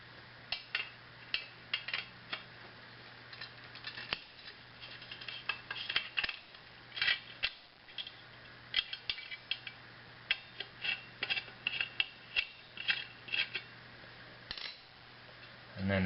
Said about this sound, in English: Basically just unscrewing two pieces here. This bracket, and then I'll unscrew this bracket.